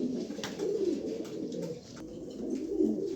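A pair of red checker pigeons, a cock and a hen, coo in soft low rolling phrases close by, the calls overlapping and continuing steadily through the stretch with no talk.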